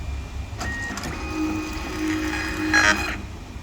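A WS series label printer feeds after its feed button is pressed, giving a steady mechanical whir and rattle of rollers for a few seconds, with a brief louder buzzing clatter near the end.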